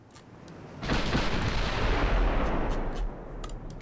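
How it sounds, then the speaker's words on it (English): Warship guns firing in the naval combat game Ultimate Admiral Dreadnoughts, a loud rolling barrage of heavy booms that swells after the first second, sustains, then eases slightly toward the end. "Oh no, the Gascon's still firing."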